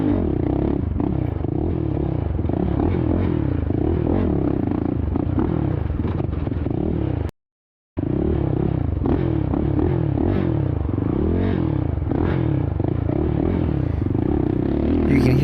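A Suzuki LTR ATV engine revs continuously, rough and loud at close range, during a hare scramble race at Pleasant Creek Raceway. The sound cuts out briefly midway, and there is no talking.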